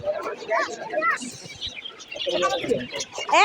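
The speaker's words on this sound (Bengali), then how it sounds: "এগুলো হচ্ছে কবুতরের বাচ্চা" Pigeon chicks at a poultry and chicken shop in Mirpur 11 give busy, overlapping chirps and soft coos close by, running steadily beneath people talking.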